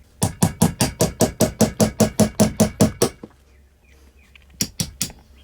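A hammer strikes a nylon punch to drive the front sight out of a CZ-75 pistol: about fourteen rapid, evenly spaced loud taps, a short pause, then three more blows, close and with no talking.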